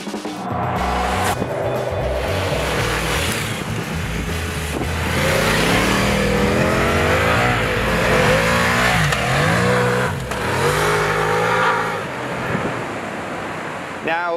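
A Ducati Multistrada V4 S motorcycle's V4 engine revs up and down through several rising and falling sweeps, loud and close, with wind rushing underneath.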